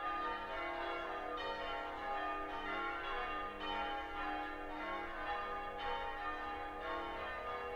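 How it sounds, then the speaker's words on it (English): Church bells ring continuously in a steady, rich peal with overlapping tolls that swell and fade at intervals, moderately distant and alone without speech. "These church bells will stop soon."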